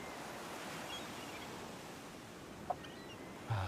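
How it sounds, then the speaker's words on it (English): Calm ocean waves wash in a soft, even hiss that runs steadily throughout, faint and distant, with a couple of brief small knocks near the end. "Nice calming waves."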